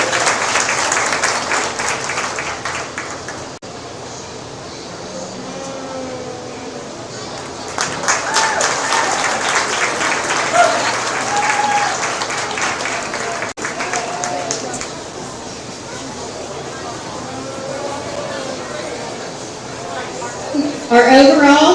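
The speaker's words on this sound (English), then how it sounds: "But let's give them a big round of applause." An audience at a livestock show applauds the winners of a sheep showmanship and market lamb competition. Loud clapping swells and fades over about twenty seconds, while an announcer talks over much of it.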